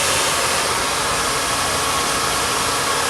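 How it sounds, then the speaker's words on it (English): A hair blow dryer aimed down at the ends of a hair strand roars in a steady, loud, close rush of air without any break, and no one talks over it. "Making sure to aim the blow dryer carefully down toward those ends."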